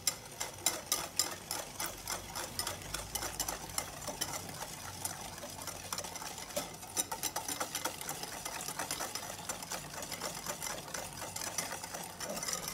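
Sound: mixer mixing cake batter with oil and sugar

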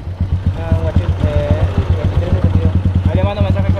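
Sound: motorcycle engine passing

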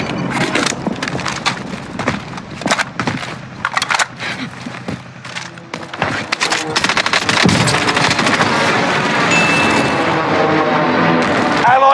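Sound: cluster airstrike in Call of Duty Warzone Rebirth Island video game

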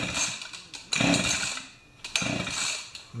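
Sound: Pioneer Partner 500 chainsaw being pull-started

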